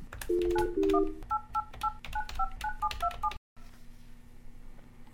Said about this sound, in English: Let me dial that number.